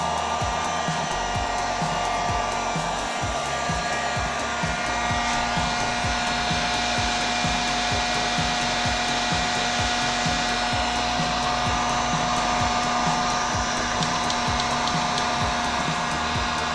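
An electric heat gun heating corroded metal on a Jeep, a steady loud blowing whir with a constant fan hum that holds unbroken and close throughout, with no talk.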